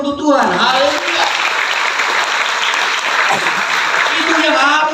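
Church congregation applause, a dense loud burst of many hands clapping that fills the space, with a voice speaking over it at the start and end.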